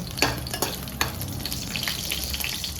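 Green chillies dropped into a hot oiled pan, a loud steady sizzle with a few sharp crackles and spatters near the start, heard up close without any talking.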